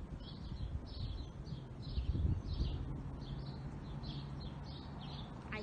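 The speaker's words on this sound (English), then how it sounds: "Hear the birds chirping." Repeated bird chirps in short bursts, fairly faint, over a low background hum with no talking.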